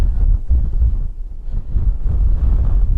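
Loud, low rumbling buffets of wind batter the microphone continuously at Coalhouse Fort, Essex, surging and easing in gusts with no one talking.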